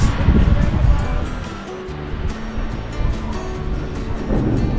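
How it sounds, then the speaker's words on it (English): Waves on Lake Huron washing in on a clear, calm day, a broad continuous surf hiss with gentle surges, mixed with wind buffeting the microphone. "Who knew a lake had waves?"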